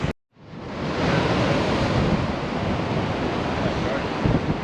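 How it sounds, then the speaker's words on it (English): Surf and steady wind roll across My Khe Beach in Da Nang, a dense continuous wash of breaking waves with wind buffeting the microphone, loud and unbroken after a brief cut at the start. "this is My Khe Beach"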